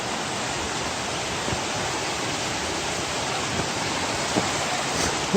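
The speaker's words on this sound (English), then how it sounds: "right now, I just want to look at this waterfall." Steady, broadband rush of a waterfall along a wooded hiking trail, a loud, constant roar of falling water that fills the whole clip, with no voices.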